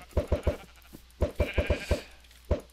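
Minecraft sheep bleat each time they are hit, short sharp game bleats in quick bursts of two or three with pauses between, loud and close, with no talk over them.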